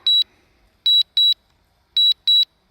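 Short high-pitched electronic beeps from a drone's landing warning come in pairs, three double-beep bursts with pauses between them, clear and close against near silence.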